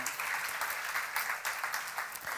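A congregation at a church seminar claps together, a close, lively burst of applause with uneven surges, heard alone without speech.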